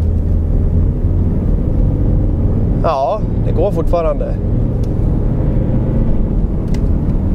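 Diesel car wrongly filled with petrol, driven at full throttle and labouring heavily, a steady low engine rumble running throughout with a brief stretch of talk in the middle.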